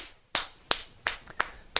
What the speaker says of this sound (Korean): 마지막으로 허리 박수 한번 해볼까요?